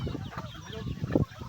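A brief, quiet burst of chicken clucking on a mountain farm, a few low clucks close by with faint background noise.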